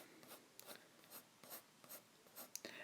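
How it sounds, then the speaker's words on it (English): A gray colouring pencil flicks across paper in quick, short strokes, about a dozen soft scratchy swishes in an uneven rhythm, close and quiet, with no talking. "So I'm just flicking my pencil"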